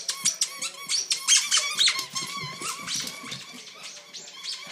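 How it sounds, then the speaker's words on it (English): A dog plays with a new squeaky toy, squeezing out a rapid, continuous run of high squeaks close by, with a second dog nearby and occasional soft whimpers mixed in. "The squeaky toy."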